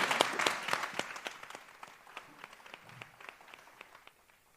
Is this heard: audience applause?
yes